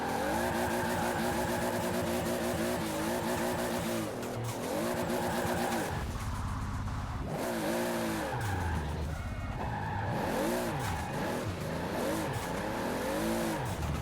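Simulated race car engine revving through gear changes with tire squeal and skidding in a racing video game played on a Logitech G920 wheel, loud and continuous with no talk.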